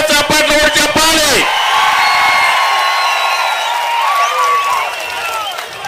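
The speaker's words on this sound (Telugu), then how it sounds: "చేస్తామని గట్టిగా చప్పట్లు కూడా చెప్పాలి" Crowd at an outdoor political rally in Kavali breaks into sustained applause and cheering after speech stops, with clapping and whoops continuing steadily at moderate loudness for several seconds.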